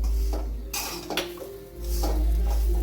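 A spoon stirs salt into chickpea-leaf bhaji in a metal pan, making clinks and scrapes against the pan over a steady low hum, close and fairly loud, with no talking.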